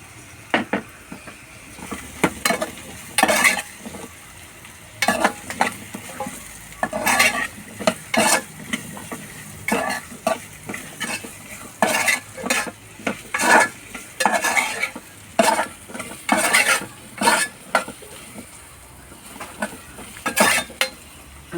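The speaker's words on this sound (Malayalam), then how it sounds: "ഇനി അതിലോട്ട് നമ്മുടെ കിഴങ്ങ് അരിഞ്ഞ് വെച്ചേക്കുന്നത് കിഴങ്ങും കൂടെ ചേർത്ത് കൊടുക്കുവാണ്." Chopped potato sizzling in a frying pan while a utensil stirs it, with repeated scraping, clinking strokes in an uneven rhythm over a steady low fry, close and clear with no talking.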